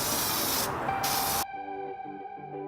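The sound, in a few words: spray gun applying light mist coat of paint to Nissan 350Z window switch trim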